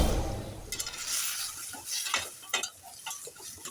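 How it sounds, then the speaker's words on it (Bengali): Jackfruit seeds and potatoes are stirred in a frying pan, with a spoon scraping in irregular strokes over a low sizzle, close and fairly loud, with no talking. "এখন আবার আমি নেড়ে চেড়ে দিলাম। কাঁঠালের বিচি আর আলুটা মোটামুটি কষানো হয়ে গেছে"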